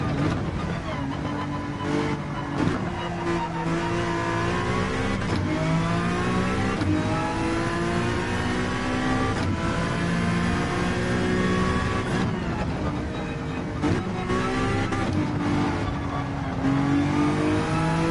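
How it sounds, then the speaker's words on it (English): A race car engine in a Gran Turismo video game whines and shifts pitch continuously while braking, revving up and easing off, with a steady loud drone throughout and no pauses. "It's not reassuring, the sound of the car braking."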